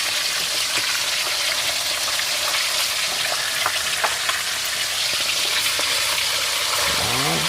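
Food crackles and sizzles continuously in a hot pan of oil, a dense close frying hiss with scattered pops throughout.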